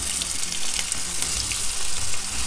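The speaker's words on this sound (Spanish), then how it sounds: "Hemos puesto aceite a calentar y una vez que se ha calentado vamos a incorporar la patata y la cebolla" Diced potato and finely chopped onion hit hot oil in a pan for a Moroccan-style tortilla, giving a loud, dense, continuous sizzle heard close and alone.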